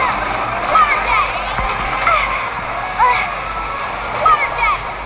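Splashy water jet attack from Genshin Impact gameplay: bursts of spray and sloshing repeat across the clip, loud and close, over a steady watery background layer with game effects.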